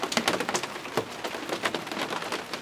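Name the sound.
rain during a thunderstorm in Larned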